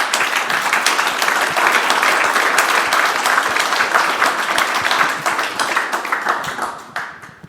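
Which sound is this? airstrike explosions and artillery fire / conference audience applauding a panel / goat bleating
conference audience applauding a panel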